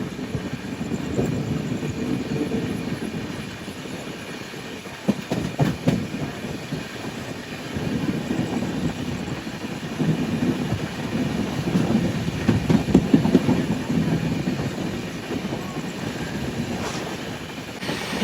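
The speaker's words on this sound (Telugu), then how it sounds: "గట్కేశ్వర్ రైల్వే స్టేషన్ బయట అయితే స్లో అయిపోయింది బండి." A passenger express train slowing as it runs past Ghatkesar railway station, a steady rumbling roll with faint wheel clatter throughout, rising slightly in loudness toward the middle before easing.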